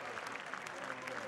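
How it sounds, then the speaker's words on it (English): A crowd applauds student athletes and award honorees at halftime of a boys' state basketball championship game, a brief, even patter of many hands clapping, heard somewhat distant in a large gym. "let's have another big round of applause for the 2013 and 14 Believers and Achievers"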